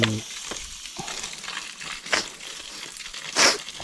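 Food sizzles and crackles on a hot stone used as a pan outdoors, with a steady frying hiss broken by a few louder pops and scraping sounds.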